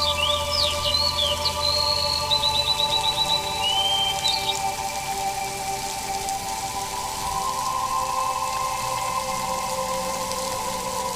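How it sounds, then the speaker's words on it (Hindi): Soft, steady light rain and raindrops falling around leafy green trees in a quiet forest, a constant wash with birdsong calling in the opening seconds and no voices. "आपके चारों ओर हरे भरे पेड़ और हल्की बारिश की बूंदें हैं।"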